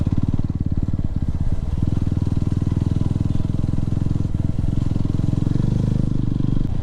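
A motorcycle engine runs steadily while riding on a long highway trip, a loud, continuous low throbbing drone with slight shifts in pitch as the throttle changes, close to the rider with wind rush behind it.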